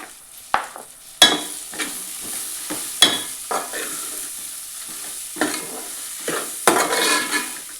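A spatula scrapes and knocks repeatedly through an egg biryani mixture in a hot pan as biryani masala is stirred in, sharp clattering strokes at uneven intervals over a low sizzle, near and without talk.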